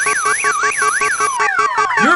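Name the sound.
Screaming Mimi car alarm in video game You Don't Know Jack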